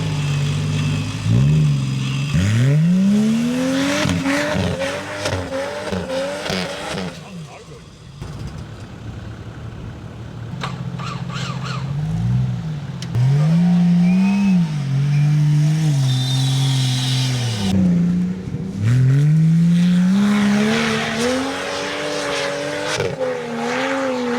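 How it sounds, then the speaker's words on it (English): Nissan and Toyota 4WDs in soft sand as off-road vehicles rev hard, engines climbing and falling through repeated loud accelerations with brief quieter gaps and a faint tire squeal, while voices talk under the engine noise. "we had to play in the sand, which ended up becoming a Nissan versus Toyota face-off"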